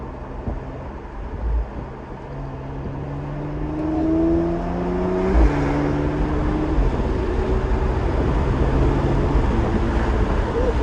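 A 2018 Porsche Macan GTS accelerating from inside the cabin, engine tones climbing through the gears before a shift into sixth, then a steady road rumble, with someone talking.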